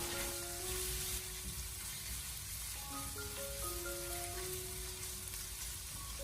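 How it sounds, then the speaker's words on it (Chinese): Pork belly stir-fries with ginger, scallion and garlic, a continuous dense crackling sizzle held steady throughout under soft background music. "接着再把姜葱蒜添加进来，然后再继续的把它翻炒一下"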